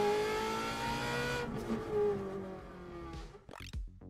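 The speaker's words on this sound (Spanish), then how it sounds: "Es un video de un auto real. La Asociación Americana de Rally equipó uno de sus autos con un selfie stick y una cámara 360." A rally car of the American Rally Association driving fast with a camera on a selfie stick: a high, sustained engine whine climbing and dropping through gear changes, then a sharp burst of revving near the end, loud and close.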